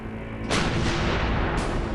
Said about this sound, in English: The Marines start by firing a spotting round.